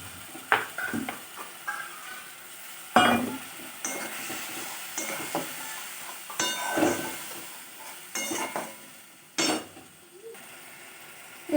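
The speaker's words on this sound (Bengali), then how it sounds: "এটা আমি ততক্ষণ অবধি কষাবো যতক্ষণ না মশলা থেকে তেলটা ছেড়ে যাচ্ছে" A masala spice paste, thinned with a splash of water, fries in a pan for egg paneer curry, hissing and spluttering in uneven bursts with intermittent stirring scrapes close by.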